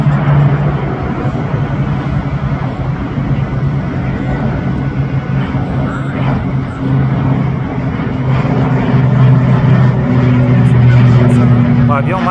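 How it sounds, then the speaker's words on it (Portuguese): A deep, sustained jet engine roar from an airplane taking off at Guarulhos airport fills the whole stretch, steady and loud, heard from a distance with people talking faintly over it. "Vai decolar aqui do aeroporto de Guarulhos aqui"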